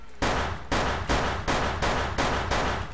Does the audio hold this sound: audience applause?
no